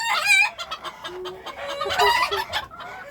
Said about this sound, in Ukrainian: Яка страшна курочка.